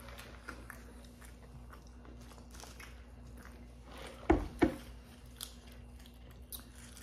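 Biting into and chewing Burger King ghost pepper chicken fries, quiet mouth sounds with two sharp crunchy bites in the middle over a low steady background hum.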